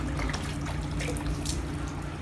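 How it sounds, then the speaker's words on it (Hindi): Water trickles and splashes steadily into dried-out flower pots at home, a soft continuous pour with no talking. "तब हम थोड़ा थोड़ा करके इनको पानी देंगे"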